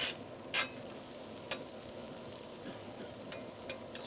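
Pulled pork tamale pie filling browns in a pan, giving a faint, steady sizzle broken by a few sharp scrapes and clicks of a spoon stirring it.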